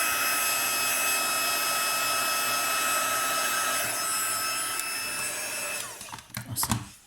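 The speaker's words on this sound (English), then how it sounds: "I'm just going to quickly dry it so it doesn't rub off in my hands" A heat tool blows a steady, loud whirring rush of air over a stamped emboss resist card for about six seconds, then cuts off, followed by a few clicks and handling noises.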